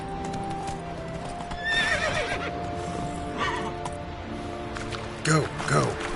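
Roach, the horse from The Witcher video game, gallops with steady clip-clop hoofbeats and gives clear whinnies near the end, set over continuous game music.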